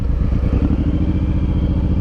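A Suzuki M109R motorcycle engine idling close by, a loud, steady low rumble with rapid regular pulsing throughout.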